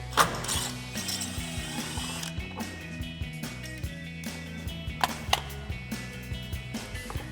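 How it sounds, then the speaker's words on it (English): A ratchet with a 10mm socket turns out a bolt on a 2020-2026 Sierra 2500 fender flare mount, giving close, steady rapid clicking with a few sharper knocks, under a low background hum. "Take a 10mm socket, remove that bolt."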